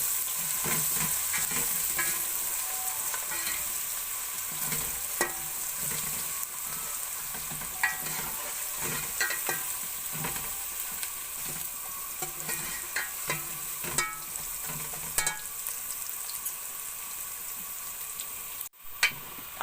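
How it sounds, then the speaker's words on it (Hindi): Garlic paste frying with browned onion in a pan for a restaurant-style egg gravy, giving a steady sizzle with repeated stirring and scraping clicks throughout, close up, with no talking. "अब मैंने लहसुन को भी भून लिया थोड़ी देर"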